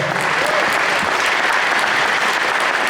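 A banquet crowd at the Laurens County Touchdown Club 2024 awards applauds sponsors such as the county water and sewer utility, a federal credit union and a regional health care provider, with loud, continuous clapping filling the whole stretch.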